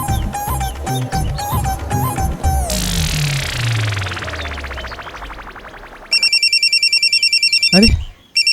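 A telephone rings in a Rajasthani comedy scene, its electronic ringtone sounding as repeated bright trilling bursts in the latter part of the clip, after a stretch of music and sliding tones, with voices talking earlier.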